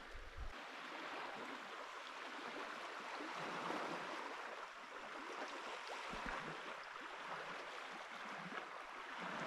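A small creek flows beside a campsite on a freezing night, a faint, steady rushing wash with no voices.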